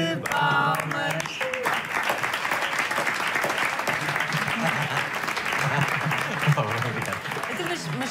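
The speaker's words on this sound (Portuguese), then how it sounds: "Uma salva de palmas." A round of applause breaks out at a celebration, dense clapping from a group that swells and continues steadily, with voices talking and calling out over it.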